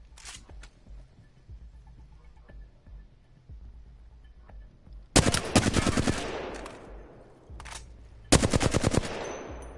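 Two loud bursts of rapid automatic fire from a weapon in the Apex Legends firing range, the first around midway and a shorter one near the end, with faint clicks and quiet gaps between.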